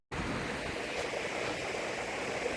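Brook water rushing over stones at a stream crossing on a Peak District hike, a steady broadband wash that starts abruptly and continues close and fairly loud throughout, with no voices.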